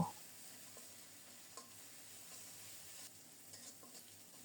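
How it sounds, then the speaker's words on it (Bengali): Onion and ground coriander-cumin paste frying in a pan, a faint, even sizzle with occasional soft scrapes of a spatula stirring, no voices. "নেড়ে চেড়ে কিছুক্ষণ ভেজে নেব"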